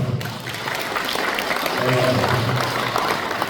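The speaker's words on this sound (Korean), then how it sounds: "두 분에게 큰 박수 부탁드립니다" A crowd at an 80th Liberation Day national event applauds director Jin Dae-woong and producer Kim Hak-jung with a continuous, moderately loud wash of clapping, with a voice faintly heard underneath.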